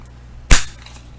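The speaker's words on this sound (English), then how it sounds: "corner rounder punch by Stampin' Up!" Stampin' Up! corner rounder punch rounding the corner of a birthday card: one sharp, loud snap at close range in an otherwise quiet room.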